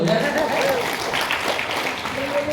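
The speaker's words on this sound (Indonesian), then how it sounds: "Tepuk tangan untuk ibu dulu ya." An audience at a hotel gathering claps together in a brief burst of applause that fills the moment evenly, with a voice speaking over it.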